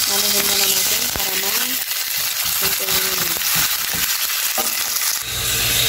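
Ground beef frying in a hot pan gives a steady, loud sizzle with scraping and stirring clatter throughout, plus a few brief tonal sounds mixed in.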